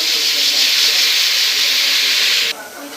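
Whole spices dropped into hot oil for a raw jackfruit biryani give a loud, continuous close sizzle that abruptly drops to a softer hiss near the end.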